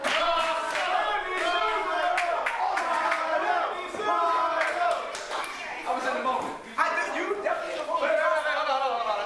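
Crowd at an independent wrestling show cheering and yelling throughout, with scattered claps and shouts, while a commentator talks over the noise.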